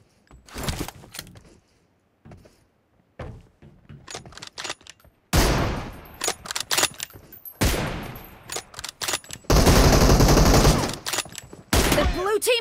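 Gunfire in PUBG Mobile team deathmatch, with sharp bursts and rapid automatic volleys, one long sustained spray near the end, broken by short quiet gaps.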